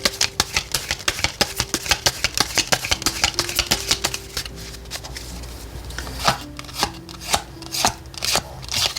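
Tarot cards being shuffled by hand, a rapid run of crisp riffling flutters and soft slaps that repeat steadily for several seconds, close and moderately loud with no talking.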